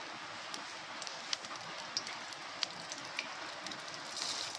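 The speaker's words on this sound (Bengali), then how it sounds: "এখানে তেল দিয়ে দেওয়া হচ্ছে কড়াতে।" Oil going into a hot kadai for a Bengali chalkumro (ash gourd) dish gives a steady, fine sizzling hiss with a few sharper crackles and pops, close and fairly quiet, with no talking.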